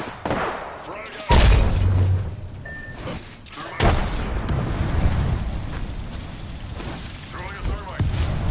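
A frag grenade thrown and exploding in Apex Legends: two heavy, booming blasts a few seconds apart, with rumbling game noise between them and a player's voice over parts of it.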